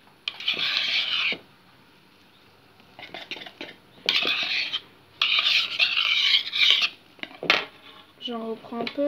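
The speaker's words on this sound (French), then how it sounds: "on va venir mettre petit à petit les blancs d'œufs avec le sucre vanillé" Egg whites and vanilla sugar being stirred into a mixture in a bowl, with scraping, clinking utensil bursts separated by quiet gaps, close up, and a voice briefly heard near the end.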